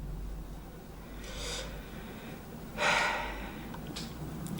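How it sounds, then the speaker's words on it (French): Three close nasal sniffs spaced a second or so apart, the middle one strongest and longest, over a faint steady room hum with no talking. "Le reniflement très classe."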